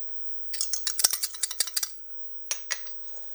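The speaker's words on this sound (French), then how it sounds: "on ajoute à l'intérieur les œufs entiers, les jaunes d'œufs" Whisking whole eggs, egg yolks and sugar in a bowl gives a quick run of clinking, scraping strokes, then a short pause and a few more close taps, with no talking.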